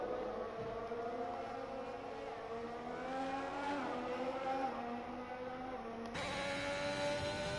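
Race cars in a sim racing video game during an eSports league race, a steady droning engine whine with rising and shifting harmonic tones, cars running together at a distance, faint and continuous.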